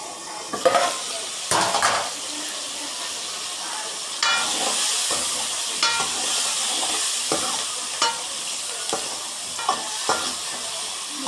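Masala frying in oil in a pan for a village-style shallot curry, a steady close sizzle broken by repeated scraping and clanking of a spoon stirring against the pan.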